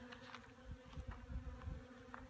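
Honeybees buzz softly around brood frames in an opened hive, a faint layered hum with brief nearby wingbeat flutters and small bumps, quiet and close with no speech.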